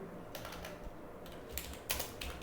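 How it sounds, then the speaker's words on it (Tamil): Code is typed on a computer keyboard in a ReactJS app: quiet, close key clicks come in short uneven bursts and pauses over a soft background hum, with no talking. "இங்கே ஒரு ஃபங்க்ஷன் டைப் பண்ணுறேன்"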